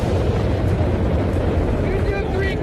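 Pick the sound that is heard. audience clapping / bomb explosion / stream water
bomb explosion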